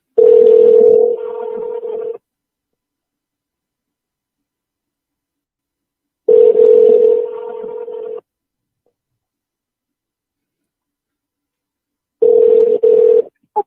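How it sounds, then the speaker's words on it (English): A telephone rings down a phone line with a hollow, tunnel-like ringback tone: three separate ring bursts of about two seconds each, spaced by several seconds of silence. "Phone ringing like it's in a tunnel, boy."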